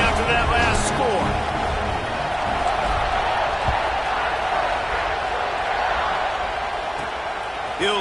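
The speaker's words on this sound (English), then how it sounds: "this crowd is buzzing after that last score" A college football stadium crowd at Ohio State versus Nebraska buzzes after a score, a dense, continuous roar of many voices with scattered shouts.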